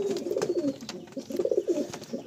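Pigeons in a loft at Baruipur, including aggressive Andhra birds, give soft, throaty cooing in close, overlapping rolling phrases, with no voices.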